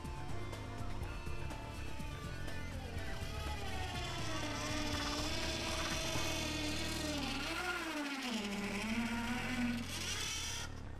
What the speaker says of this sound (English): a Dremel to cut out the section